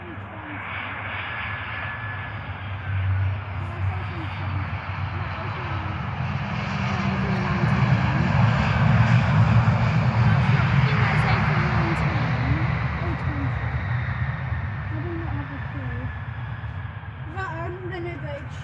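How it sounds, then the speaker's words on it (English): A British Airways Boeing 777 jet waits to take off at Gatwick Airport, its engines a steady loud roar that swells in the middle and then holds. People talk over it throughout. "There's a British Airways 777 queuing up to take."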